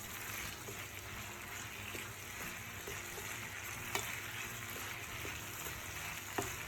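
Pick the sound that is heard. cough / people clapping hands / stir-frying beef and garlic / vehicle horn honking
stir-frying beef and garlic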